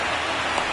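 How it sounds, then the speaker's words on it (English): Rain pours onto a baseball field in the MLB The Show 26 video game, a dense, even hiss of falling drops that stays loud and unbroken. "the field's not going to be able to hold up if the rain gets any worse than this"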